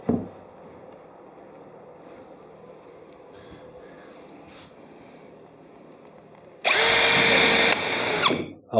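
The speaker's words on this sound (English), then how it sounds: "broke off another drill bit" A low room hum gives way to a loud power drill boring into wood, whirring steadily for about two seconds, then winding down near the end.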